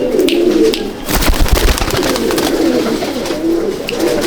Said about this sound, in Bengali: আর মাদিটা পাঞ্জাব একটা বড় ওস্তাদের পায়রা